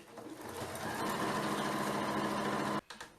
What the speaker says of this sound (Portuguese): Então vamos lá passar uma costura de segurança em toda a volta que a gente riscou.